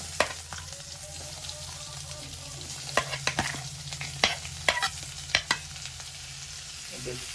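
Onions frying in a little oil for an Indian-style egg gravy give a close, moderate sizzle, with a busy run of spatula clacks and scrapes in the middle, and no talking.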